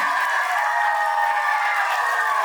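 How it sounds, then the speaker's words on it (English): An audience at an Independence Day event applauds children in a dense, continuous wash of clapping that stays steady and fairly loud for the whole stretch, with no voices standing out. "I would rather request all of you for a round of applause for them, these beautiful kids"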